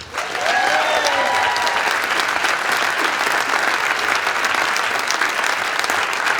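An audience at a small business reveal event in Fredonia breaks into full, steady applause, dense clapping that stays loud and even throughout with a brief voice or cheer early on.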